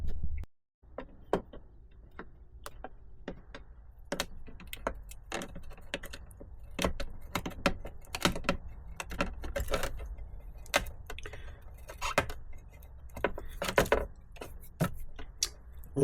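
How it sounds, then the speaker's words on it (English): Knife scraping at a decal on a lacquered Triumph panel, a series of sharp irregular scratches and ticks over a quiet background. "So the first thing we're going to do is carefully with a knife, if we're going to try and remove the sticker off the side."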